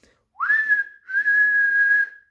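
A human whistle imitates Thomas the Tank Engine's whistle: a short rising toot, a brief break, then a longer steady high note, clear and alone in a quiet room.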